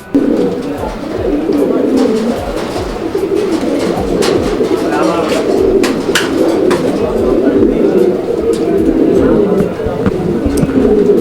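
A male Rajgolla pigeon coos repeatedly at close range, a steady low warbling that runs throughout, with people talking over it.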